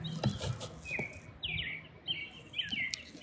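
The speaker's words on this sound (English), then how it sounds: "I wanna know what kind of bird that is." A bird sings a series of short, clear whistled notes nearby, repeated with small pauses, over a soft outdoor background with a few light knocks.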